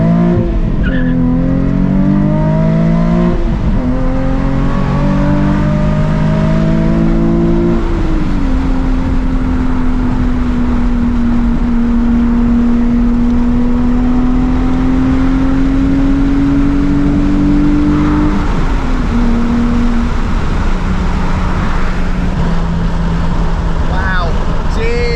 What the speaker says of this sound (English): Let's get a freeway on-ramp pull just because